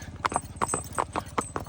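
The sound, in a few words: horse hooves clip-clopping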